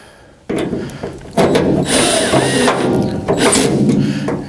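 A power driver whirs in short bursts, driving screws into the lower door retainer of a 1952 Chevrolet pickup truck, with ratcheting and mechanical noise close up and no talking.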